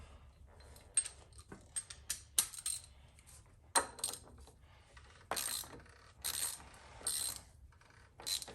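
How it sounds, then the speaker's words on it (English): A 32 mm socket on a ratchet works loose a car oil filter: a series of quiet, close clicks and metallic clacks in irregular bursts, with a few faint rattling handling sounds. "Get your 32 and your ratchet."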